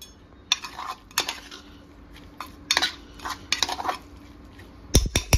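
Green chili, garlic and cumin get pounded and crushed in a kitchen, with irregular close knocks and clattering metal-on-stone strikes in short bursts, ending in a few heavier thuds.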